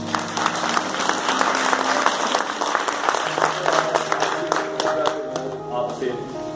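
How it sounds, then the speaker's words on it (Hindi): Loud applause fills a hall at a PACL investors' gathering in India, dense steady clapping throughout with crowd noise and some voices underneath. "तो मैं आपकी जोरदार तालियों से"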